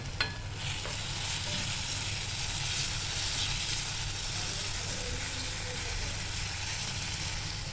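An onion and tomato masala for pav bhaji sizzles steadily in a pan as coriander and cumin powder are added, a continuous close frying hiss running throughout with no pauses.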